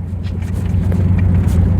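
A truck jolting over potholes on old, rough asphalt, heard from inside as a loud, continuous low rumble with small knocks and rattles over it.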